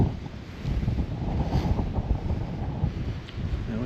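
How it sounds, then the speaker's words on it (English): Strong wind gusts at a high lookout in a state park, roaring as a dense, steady rumble that buffets the microphone throughout, loud and continuous with no voices. "the wind's blowing like crazy"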